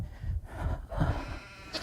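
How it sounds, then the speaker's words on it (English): A mixed herd of goats and sheep bleats repeatedly at close range, overlapping calls rising and falling over a steady outdoor background. "So these are the goats over here, are they?"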